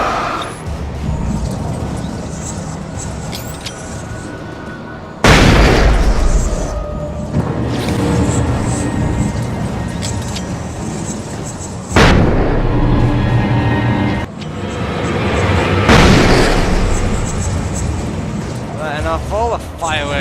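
Explosions and gunfire in the Alan Wake video game, several loud sudden booms breaking out every few seconds over an ongoing rumble, with someone talking across the blasts.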